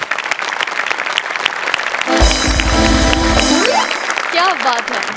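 Loud, dense applause from a comedy show audience bursts in midway and sustains for over a second, framed by speech and bits of music before and after.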